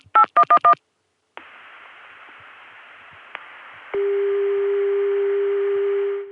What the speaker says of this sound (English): when I dialed 281-8111, I was very happy to get this.